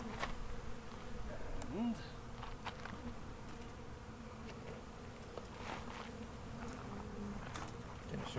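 Honeybees swarm around an opened, under-supered hive during a full inspection, a steady dense buzzing of many insects close by, with a few louder passes near the ear and a brief spoken word.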